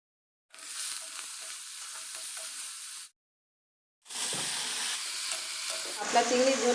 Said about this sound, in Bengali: এবার একটু ভালো করে কষাবো, কষিয়ে অল্প একটু ঝোল দেবো।